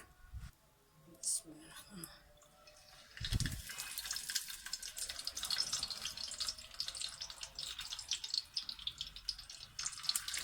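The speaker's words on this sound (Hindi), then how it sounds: "तो इसमें अब हम फिश को फ्राई करेंगे" Fish sizzles as it fries in hot oil in a pan for a restaurant-style tawa fry, a steady crackling hiss that starts after a few quiet seconds and continues to the end, with faint talk at times.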